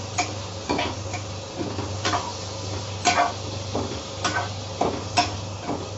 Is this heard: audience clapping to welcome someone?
no